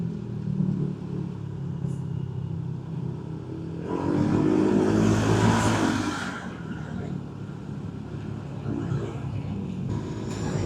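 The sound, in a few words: dirt trucks driving past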